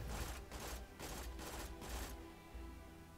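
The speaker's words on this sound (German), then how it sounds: "Ich schieß mal drauf" Rapid gunfire in Borderlands 2, shots fired at a blue crystal in the game: a run of about six fast, loud bursts over steady game ambience, stopping near the end.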